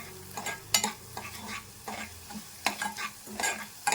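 Garlic and dried red chillies dry-roasting in a pan for a spice powder, a spoon stirring them in repeated scraping strokes with a light, crackling sizzle, close and alone without talk.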